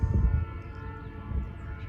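A diesel locomotive notching up while climbing a steep grade rumbles with a deep, steady engine drone and a faint droning tone above it, heard from a moderate distance.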